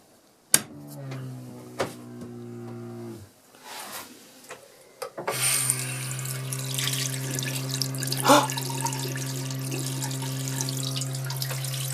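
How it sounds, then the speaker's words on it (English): Water runs from a tap at a forest garden, first in a short burst and then steadily after the water pump is switched on, with a constant pump hum and clatters nearby. "If I turn on the tap... Oh, I should try turning on the water pump first."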